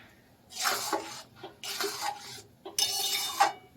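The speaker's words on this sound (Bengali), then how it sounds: "ভালো করে মিশিয়ে নিচ্ছি।" A spoon stirs lentils with salt and turmeric in a pot, making three bursts of scraping and clinking against the metal, each about a second long and separated by short pauses, close and fairly quiet.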